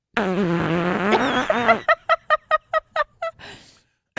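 Comic fart recorded for a radio show: a long, wavering, squeaky blast that breaks into a rapid string of about eight short staccato pops, ending in a faint hiss, loud and close with no talk over it.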